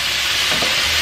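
Meat and potatoes sizzle steadily in a pan in a brief, close, continuous hiss, with a soft stirring scrape midway.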